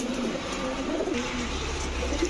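Pigeons, a mix of racing and fancy birds at a breeder's loft, coo in low repeated rolling calls, close and steady over a faint background hum.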